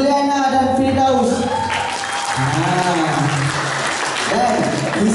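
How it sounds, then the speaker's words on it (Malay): Audience clapping at a Malaysian motivational seminar, a steady wash of applause mixed with a voice talking over it throughout. "So beri tepukan kepada kita punya Presiden Zuliana dan Firdaus"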